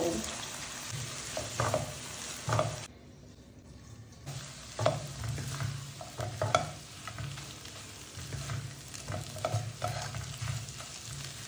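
Minced chicken is stir-fried in a pan with a splash of water, producing a steady sizzle and repeated rhythmic scraping of the spatula, briefly dipping quieter before resuming.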